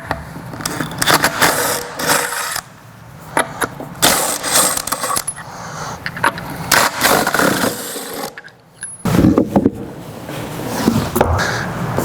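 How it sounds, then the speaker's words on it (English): Factory spare tire being removed from a Ford Bronco with a 19mm socket, giving repeated close metallic clicks, ratcheting and clanks with a short quiet gap near the end. "We're going to go ahead and start with a 19mm socket and remove the factory spare."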